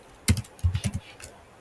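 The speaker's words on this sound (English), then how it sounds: "Holding down the Shift key on the keyboard," A few computer keyboard keys, Shift and F3, are pressed in quick succession, producing several close, dry plastic clicks with no talking.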